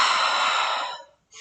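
A woman exhales through her mouth during breathwork, a close, breathy rush of air lasting about a second before a short pause and the start of the next breath.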